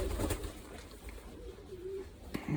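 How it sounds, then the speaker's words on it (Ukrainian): Pigeon chicks coo softly at close range while being ringed, giving low, quiet murmuring calls with a few faint thumps and no talking. "Тут є пара прекрасних голубенят."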